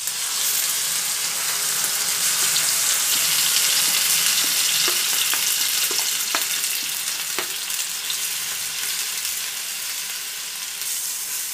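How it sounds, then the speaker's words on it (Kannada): Grated Mangalore cucumber frying in hot ghee in a pan, a steady, dense sizzle lasting the whole time with a few soft scraping stirs near the middle. "ಹಾಕೊಂಡು ಚೆನ್ನಾಗಿ ಬಾಡಿಸ್ಕೋಬೇಕು, ನೀಟಾಗಿ ಅದು ತುಪ್ಪದಲ್ಲಿ ಫ್ರೈ ಆಗಬೇಕು."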